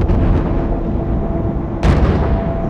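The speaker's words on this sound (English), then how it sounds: "Oh, they're firing from there." Borderlands 2 gunfire as loud, dense bursts of shots and blasts rumble continuously, with a sharper burst near the end.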